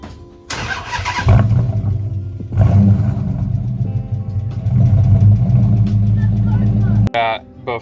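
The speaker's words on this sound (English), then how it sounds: "So let's start the car." A Dodge Magnum R/T, just fitted with an SRT rear end, cranks and fires up, settling into a deep, loud rumbling idle with surges of revving, and a brief beep near the end.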